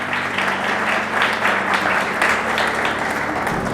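A crowd applauds steadily at a Makar Sankranti college function as a guest is welcomed onto the stage, the dense clapping loud and continuous with a low hum underneath and no talking.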